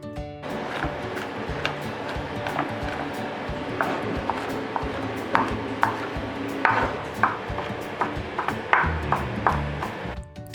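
Smashed garlic chopped with a knife on a board, a run of sharp, quick knife strikes in an uneven rhythm, close and clear, with no talking.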